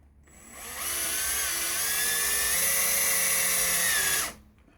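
A power drill drives a screw into a Magrav unit, a single steady high-pitched whine lasting about three seconds that winds up and then stops, close and alone.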